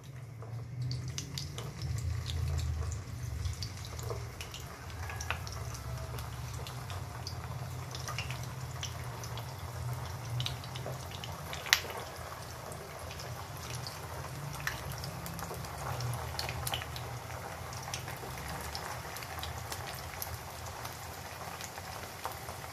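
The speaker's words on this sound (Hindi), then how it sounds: "ये ऑयल गरम हो गया है, अब मैं इसमें ये डाल लगी हूँ।" Potato and chicken butterfly-bite snacks fry in hot oil, giving off a steady, fine crackling sizzle with scattered pops that continues for over twenty seconds without talk.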